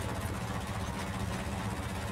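A tractor engine idles in a Polish farming video game, a steady low rumble with even vibration holding at constant loudness throughout, close and alone.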